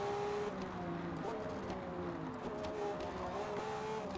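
New Lamborghini in the Forza Motorsport video game driving, the engine holding a steady, moderately quiet drone with gentle pitch shifts.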